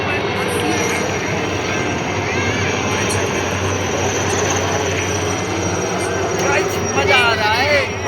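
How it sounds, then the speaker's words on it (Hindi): Two military helicopters pass overhead at an Army Day parade in Jaipur, a steady loud rotor and engine roar filling the whole stretch and swelling slightly near the end, with crowd voices and talk underneath. "ये 2 हेलीकॉप्टर जाते हुए।"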